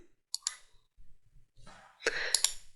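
A few sharp mouse clicks sound while selecting the flatten option in Cricut Design Space, with soft breathy handling noise in between and a denser burst of clicks near the end.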